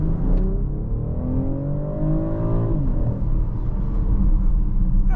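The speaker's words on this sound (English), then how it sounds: "All right, we're gonna do a full acceleration." A 2024 BMW X6 40i with M Sport brakes pulls hard under full acceleration, its engine note climbing steadily through the revs as a loud, continuous rumble from inside the cabin, with no one talking.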